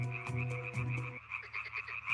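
Male tree frogs croak loudly from a spring pond in a chorus of repeated, rhythmic calls, several voices overlapping close by with no talking.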